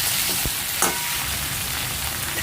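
Potatoes being stirred in a pan of browned ginger-garlic-onion masala, a continuous soft sizzle with a couple of brief scraping stirs near the start.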